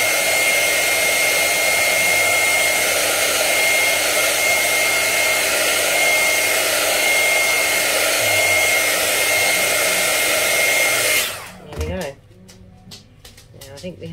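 A hair dryer blows steadily at full speed over glued cork coasters, a loud continuous whoosh that cuts off near the end, leaving quiet handling sounds.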